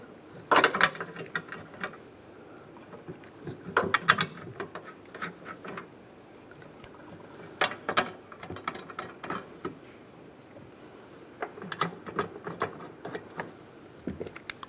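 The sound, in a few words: ratchet tightening bolt on Chevy Silverado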